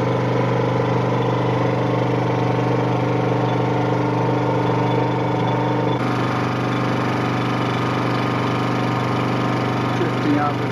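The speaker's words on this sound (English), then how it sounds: "Excuse the sound of the generator." A generator runs steadily on a sailboat leaving an anchorage at dawn in the Thames Estuary, a loud, constant mechanical drone with a slight shift in tone partway through.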